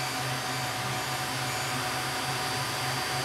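Creality Ender 3 Max 3D printer with its Z gantry moving, a steady loud whirring drone with a faint pulsing motor hum throughout, with no talk.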